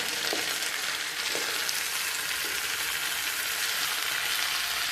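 Kundru, ivy gourd, stir-frying in mustard oil, a steady dense sizzle filling the whole stretch with a few soft stirring knocks underneath, close and continuous.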